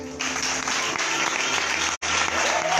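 An audience at a church conference plenary claps loudly and steadily for a singer, a dense close applause that runs without letup apart from one brief break near the end.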